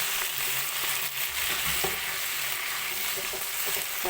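Vegetables and jackfruit seeds fry in a pan for a Kerala-style home curry, giving a steady close sizzle with scraping stirs and small clatters throughout, no voices.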